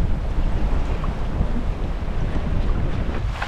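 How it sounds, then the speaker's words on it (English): Strong wind rushes across a sailboat on the Mexican Pacific coast between Carrizales and Barra de Potosí, a loud, continuous roar buffeting the microphone, with water noise beneath. "The wind picked up!"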